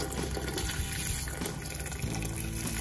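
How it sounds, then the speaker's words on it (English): Water being poured into a cooking pot of Jamaican stew peas with pig tails, a steady continuous splashing fill that runs throughout at moderate level, with no talking. "I'm just gonna add some more water into the pot"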